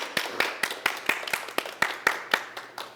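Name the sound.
people clapping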